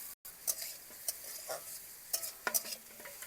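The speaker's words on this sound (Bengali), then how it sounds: "এইবার লঙ্কা, পেঁয়াজ সব কিছু একটুখানি ভাজা ভাজা করে নিচ্ছি।" Chilies and onions briefly frying in a pan, a soft sizzle broken by several sharp spatula scrapes and taps against the pan, close and fairly quiet, with no speech.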